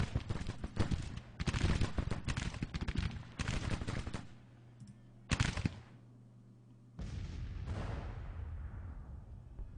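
Gunfire from the Civil War strategy game Grand Tactician: The Civil War, with bursts of rattling musket volleys and booms in clusters separated by quieter gaps, loud and fairly close.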